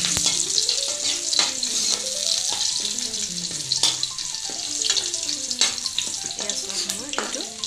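Onions and tomatoes fry in a pan for a fish curry, a bright, continuous hissing sizzle with repeated stirring scrapes, close and fairly loud, backed by a melodic music bed.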